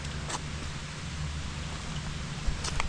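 Rain falling steadily outdoors in the woods of Hartland, Maine, a continuous soft hiss with a few closer drip ticks, no voices.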